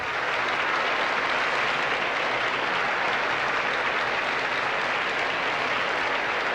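A large audience at the 1988 Miss Universe pageant applauds and cheers in a steady, dense wash of clapping that holds without pause throughout.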